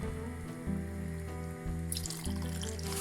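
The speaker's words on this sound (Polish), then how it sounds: "dodaję zakwas domowej roboty" Homemade sour starter pours in a steady splashing stream into a pot of beetroot soup cooked on smoked ribs, with a low kitchen hum underneath.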